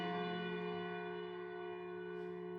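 A church bell rings in Lost Odyssey, one sustained resonant toll fading slowly with rich ringing overtones, alone without talk.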